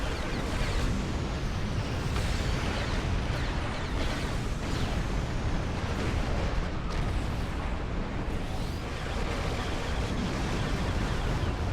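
Starship cannons in the Star Trek Online video game fire in a dense, continuous roar of booming blasts. The barrage is loud and unbroken, with no talking over it.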